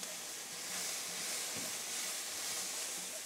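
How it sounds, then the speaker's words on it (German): Onions caramelizing with sugar in a cast-iron Dutch oven give off a steady broadband hiss and sizzle, even and moderately quiet throughout with no distinct pops. "So, die Zwiebeln haben Farbe genommen. Gebe ich den Zucker dazu. Karamellisiere die Zwiebeln etwas."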